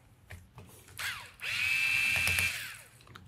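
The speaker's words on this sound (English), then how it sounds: "Now we're going to remove these two screws here." A small screw is worked loose from the barrel of an FX airgun, with a sustained mechanical whir and squeal after a few light clicks, close and alone.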